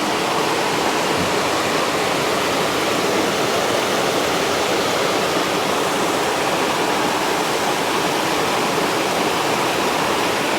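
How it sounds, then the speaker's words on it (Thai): Continuous flowing water around an ordination hall standing in a pond in Ban Mae Kampong, a steady, loud, even rush with no break and no talk. "แต่ได้ยินเสียงน้ำไหลตลอดเวลาเลย"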